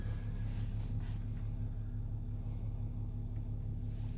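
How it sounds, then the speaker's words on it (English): A 2018 Ram 2500HD three-quarter-ton pickup with a Cummins diesel idles in a steady, smooth low rumble with an even hum, continuous and unbroken, with no one talking. "The truck actually idles very smooth."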